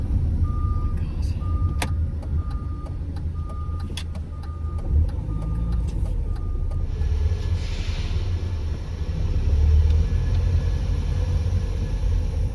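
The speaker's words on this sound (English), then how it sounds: "why I'm driving around a multi-storey car park" A car drives slowly through a multi-storey car park, its engine rumble and tyre noise echoing steadily off concrete, with a regular beeping tone repeating through the first half.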